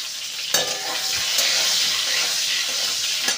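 Chopped onions and pointed gourd frying in a pan give a steady, close sizzle with a few sharp stirring scrapes.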